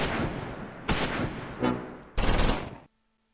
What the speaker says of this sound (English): Oh, they're making a push into the mortar barrage.